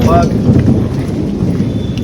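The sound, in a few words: rain falling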